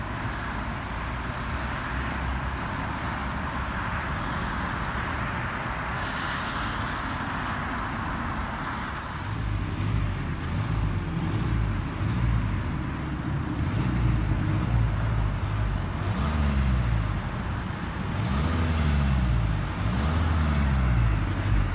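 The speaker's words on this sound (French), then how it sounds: "On entend le bruit du turbo quand même, il y a un mini turbo léger" A diesel car engine with a small, light turbo runs with a steady low rumble, its pitch rising and falling through several revs in the second half, heard alone without speech.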